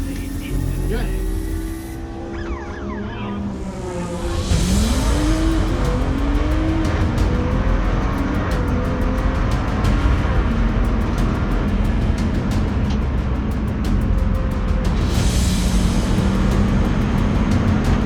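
A race car engine fires up in the pit lane and settles into a loud, steady roar with rising revs, close by, with faint voices in the background.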